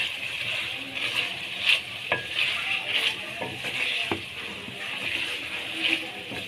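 Chicken with capsicum and softened tomatoes fries in a pan and is stirred, giving a continuous close sizzle with occasional scraping and clinking of the spoon against the pan.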